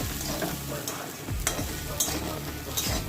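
Spiced pumpkin chutney is stirred in a pan over a soft, constant sizzle, with several sharper scrapes of the spoon against the pan at irregular moments.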